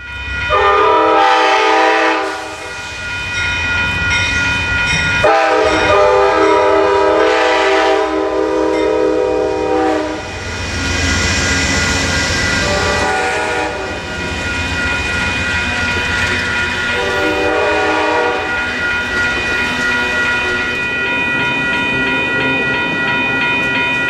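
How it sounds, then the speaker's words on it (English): Amtrak Coast Starlight passenger train pulling out of the Eugene station northbound, its loud chord horn blasting in several long sustained calls over rolling rail rumble and clatter, close by. "Making a brief station stop in Eugene, the Starlight continues its northbound journey."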